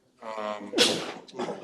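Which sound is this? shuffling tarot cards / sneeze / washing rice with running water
sneeze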